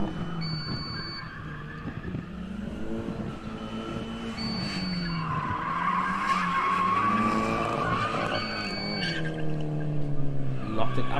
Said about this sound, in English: Locked it up there a little bit too much.